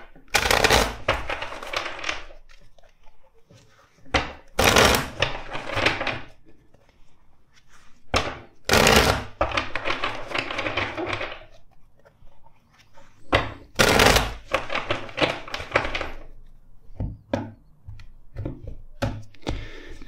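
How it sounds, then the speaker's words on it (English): A tarot deck is shuffled in several loud, crisp bursts of riffling cards, separated by quieter pauses with soft handling taps and thumps. "Let's shuffle the deck four times for you."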